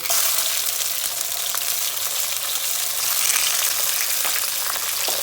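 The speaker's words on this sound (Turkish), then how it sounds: "Tam bu aşamada biberleri atıyoruz içine." Steady, loud sizzling of peppers frying in hot oil in a pot, a dense crackling hiss with small pops, continuous throughout and with no voices.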